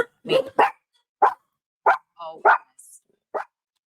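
Dogs bark in short, sharp bursts, several separate yaps spaced across a few seconds, fairly close in an indoor home setting, with a brief spoken exclamation.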